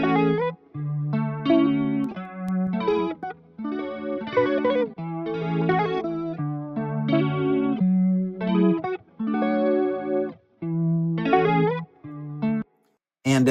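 An electric guitar passes through an RC20 plugin that adds noise and distortion, playing a lofi chord progression with a chorused, wobbly tone. The phrases repeat in a steady rhythm and end with a brief gap.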